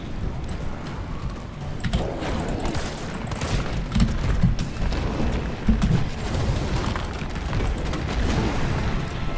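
Grenade blast and surrounding gunfire in the Resident Evil 3 video game, a dense, continuous rumble of booms and shots with a couple of sharper thumps midway, sustained loud throughout with no talk.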